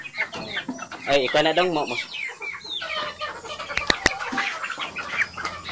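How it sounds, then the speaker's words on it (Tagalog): Heritage chickens in a pen cluck and chatter close by, with bursts of fowl calls over a brief spoken line in Filipino and some sharp knocks. "napakalikot kasi nitong mga manok na ito."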